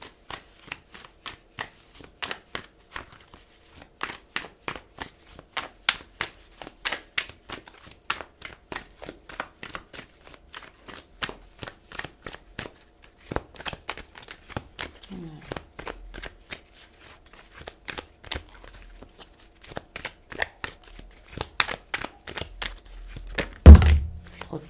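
A deck of oracle cards shuffled by hand: repeated soft papery riffles and thunks in a quick, irregular rhythm, fairly quiet and close, ending with a louder knock.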